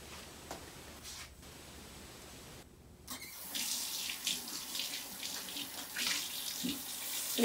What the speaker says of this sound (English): Gonna get the water nice and warm.